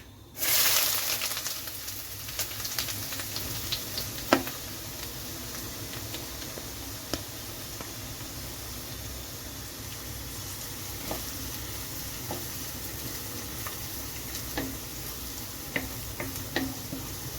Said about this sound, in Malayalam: ഒരു ചെറിയ പീസ് ഇഞ്ചി അരിഞ്ഞതും ഒരു അഞ്ചാറല്ലി വെളുത്തുള്ളി അരിഞ്ഞതും ഒരു രണ്ട് സവോളയും മൂന്നാല് പച്ചമുളകുണ്ട് നമുക്കിത് വഴറ്റിയെടുക്കാം